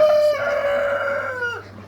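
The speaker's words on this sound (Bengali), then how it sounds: "এই যে এখানে ফার্মি মুরগিগুলা" A single farm broiler chicken lets out a loud, drawn-out call close by, followed by a short lower note, with a steady low hum underneath.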